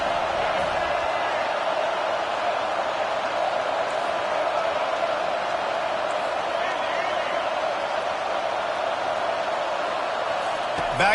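Steady roar of a football stadium crowd cheering for the defense at an Alabama game, a broad continuous wash of noise that stays loud and even throughout, with commentary running over it.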